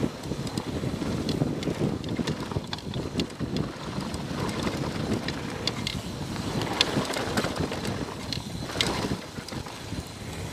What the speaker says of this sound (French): Mec, le vent. Oh là là. Oh, les trous. Le vent, ça te décale.